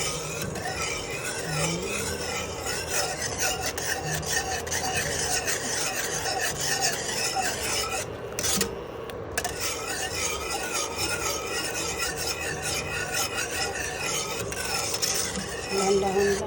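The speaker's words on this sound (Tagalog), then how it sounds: "haluin na natin ito guys hanggang sa mag-iga na ang kulay" Mango gelatin mixture being stirred in a pot, a continuous close rasping scrape of a utensil against the pot bottom in steady rhythmic strokes, briefly pausing midway.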